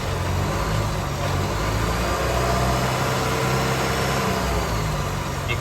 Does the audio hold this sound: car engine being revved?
yes